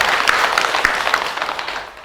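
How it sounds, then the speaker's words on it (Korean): An audience applauds at a winter meditation and music event in a Buddhist temple hall. The clapping is a short, dense burst of many hands that fades toward the end. "그러면 박수 한번 치세요."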